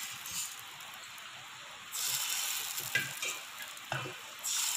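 Spring roll batter ladled into a hot pan for an eggless homemade wrapper, giving a steady soft sizzle with a few brief bursts of louder hissing as it spreads, close and alone.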